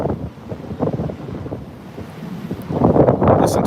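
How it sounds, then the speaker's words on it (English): Strong wind gusting during a severe thunderstorm under a tornado watch in Nashville, roaring steadily and buffeting close to the microphone, swelling louder toward the end. "Listen to that wind."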